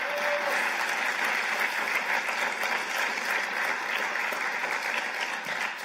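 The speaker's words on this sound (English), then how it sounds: "Can we clap for them, please?" A large audience applauds at an MBA graduation ceremony, with dense, steady clapping that fills the hall at an even loudness throughout.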